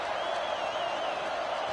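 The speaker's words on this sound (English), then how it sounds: "Listen to the crowd energy here in the early going." Crowd noise fills a college football stadium during an SMU versus North Carolina playoff game, a steady, dense roar holding at a constant level for the whole short stretch, with no single voice standing out.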